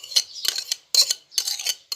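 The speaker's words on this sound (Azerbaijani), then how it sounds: "Bunları qəşəng qarışdırıram." Spoon clinking and scraping against a bowl while mixing ingredients with salt, in short repeated strokes with brief pauses, close and moderately loud.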